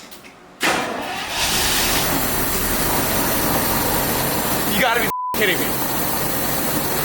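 A long-parked stock or V8-swapped Jaguar, idle about three months and fitted with a fresh battery, cranks and fires, then settles into a loud, steady idle while someone talks over it.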